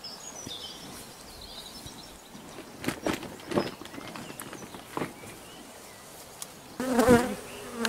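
Honeybees buzz faintly outdoors near cows while a hive is split, among scattered clicks and soft thumps, with a louder burst of activity near the end.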